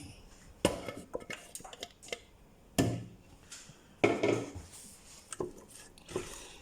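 Onions stirred into melted butter in a pot while making Finnish salmon soup, giving irregular close clinks and scrapes of utensil on metal with soft sizzling between them.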